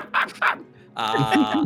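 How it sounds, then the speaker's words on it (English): A dog barks twice in quick succession close to the microphone during a tabletop role-playing session, followed by someone talking. "Oh, that's my dog."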